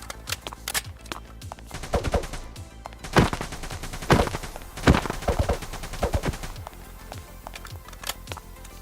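Rapid automatic fire from a SCAR rifle in a Minecraft gun mod plays in dense, crackling bursts with a few heavier booms mixed in, steady and close, and no speech over it.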